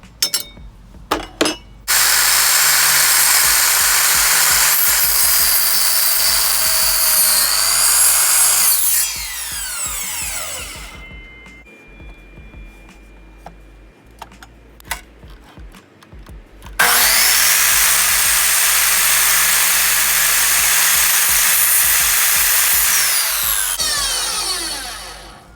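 A power saw cutting wooden pieces for a centerpiece: two long, loud, steady sawing passes with a quieter stretch of handling clicks and knocks between them, close up and without speech.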